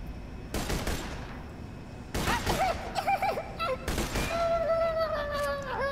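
Three bursts of rapid video game gunfire, each a clustered volley of loud shots, separated by pauses and followed by whining, whimpering creature cries in a shooter game.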